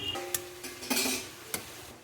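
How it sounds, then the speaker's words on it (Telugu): Boiled cauliflower being mashed with a hand masher for pav bhaji, giving a few soft squelching presses and scraping knocks against the pot, close and fairly quiet. "మేము మ్యాషర్తోని మ్యాష్ చేసుకుంటున్నాం"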